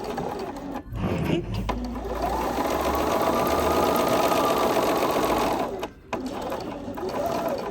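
A sewing machine stitches pieces of fabric together in a long, steady, close run with brief pauses near the start and again near the end, and a voice briefly speaks.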